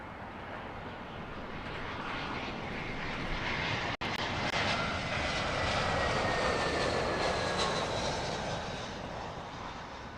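An airliner arriving at Heathrow Airport passes with a continuous, broad engine roar that swells and lingers, heard from a distance outdoors and steady for several seconds.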